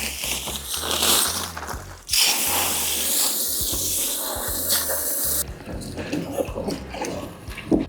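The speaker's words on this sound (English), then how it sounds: "I'm going to take it all out in a bucket outside, spray and fill it up with a hose" A hose sprays water onto sand in a bucket outdoors, a loud broadband hiss that shifts in intensity as the stream moves, with rumbling spatter underneath.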